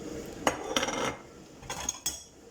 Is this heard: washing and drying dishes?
yes